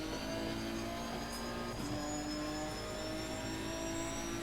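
Race car engine held at full throttle on the Silverstone circuit in Assetto Corsa Competizione, a loud, sustained high-revving drone with steady harmonic whine, close and continuous with no speech.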